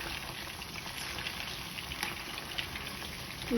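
Prawns fry in a small iron kadai for a pepper prawn dish, giving a steady, dense crackling sizzle that holds evenly throughout at moderate level with no talk.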